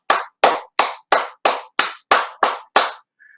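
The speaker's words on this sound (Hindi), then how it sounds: "एक बार जोरदार तालियां हो जाए कोंडो-सान के लिए." An audience claps in synchronized rhythm for Kondo-san: nine crisp, loud, evenly spaced claps, then a faint short tone after a pause.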